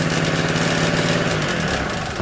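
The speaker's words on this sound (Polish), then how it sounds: "Ten agregat ma wydajność 650 W" A TG-950 power generator rated at 650 W runs steadily with a close, loud, continuous engine drone that stays even throughout, with no voices.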